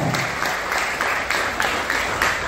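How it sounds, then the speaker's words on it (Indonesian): Participants at a national lecture clap for a professor, the applause lively and continuous with a pulsing, slightly rhythmic character. "para peserta boleh diberikan tepuk tangan yang luar biasa"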